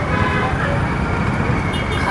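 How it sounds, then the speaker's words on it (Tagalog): Heavy road traffic in Davao City: a dense, continuous rumble of cars and engines, loud and close, with a voice over it. "Mabigat ang traffic."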